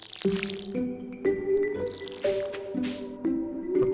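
Watering crops with a watering can in Stardew Valley: a series of short, bright splashy drip-and-squish game effects repeating in a steady rhythm, about seven quick waterings, close and clear with no talk.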